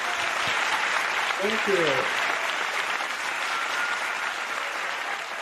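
Audience applause at a peace festival honouring a family's testimony, a steady broad wash of clapping throughout with a brief spoken thank-you near the start.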